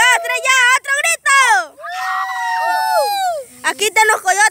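A group of boys shouts together in loud, drawn-out cries that rise and fall in pitch, several voices overlapping in bursts, with a longer sustained yell in the middle.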